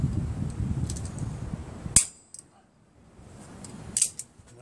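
Wire cutters snip through a wire coat hanger with one sharp, loud metallic snap, followed after a short quiet by a second, smaller click of the tool.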